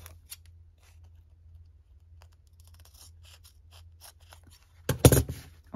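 Scissors snip a corner off a recycled sketch pad page in one short, close burst of cutting near the end, after quiet paper rustling and faint scratchy handling.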